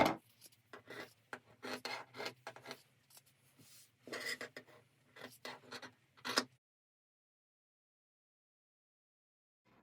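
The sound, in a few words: scissors cutting fabric for an oven dress towel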